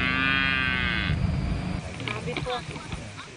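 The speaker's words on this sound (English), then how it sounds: "We are accorded a rousing welcome by these cattle" A nearby cow lets out one long, loud moo at a dam that serves as a community's only water source, then a person starts talking while other cattle call faintly.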